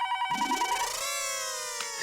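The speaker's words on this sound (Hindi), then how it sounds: "फोन है, लो लगता है बबीता जी का ही फोन है।" A telephone rings loudly and close by in a home scene from a Hindi sitcom, a bright electronic ringtone with sustained warbling tones and no talk.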